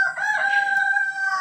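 A rooster lets out a single long crow near a chicken coop, loud and close, its drawn-out call holding steady with no other sounds around it.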